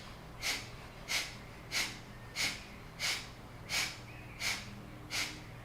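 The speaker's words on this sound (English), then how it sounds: "Kapalabhati, forceful exhales." Kapalabhati yoga breathing produces eight sharp, forceful nasal exhales at a steady, even pace of roughly one every 0.65 seconds. Each exhale is a close, breathy puff with no talking.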